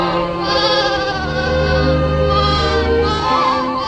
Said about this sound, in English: They're lambs. They're looking for their mothers.